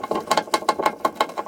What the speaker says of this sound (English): I'm going to take my Phillips again. I'm going to undo the one side.